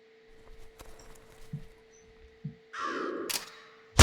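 A crow caws once in the Lucius III video game, a short loud burst near the end of an otherwise quiet stretch that holds only faint low ambient tones.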